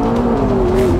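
A McLaren 650S with a 3.8-litre V8 accelerates hard, its engine note a loud, continuous roar with a rising tone that fills the whole moment.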